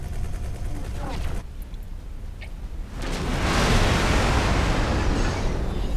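Weapons fire from station defense modules in the space game X4: Foundations, a roaring barrage that dips into a quieter stretch before swelling back into a loud, dense, continuous rumble of shots.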